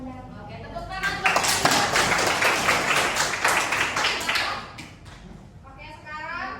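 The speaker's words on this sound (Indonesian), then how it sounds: "tepuk tangan buat" A classroom audience claps for a peer-teaching lesson, dense steady applause swelling for several seconds, then thinning toward the end, where a voice begins to speak.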